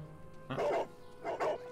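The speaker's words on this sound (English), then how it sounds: "Double barking!" A basset hound in Sherlock Holmes: The Devil's Daughter gives two close, moderately loud barks about a second apart, each a short double-pulsed woof.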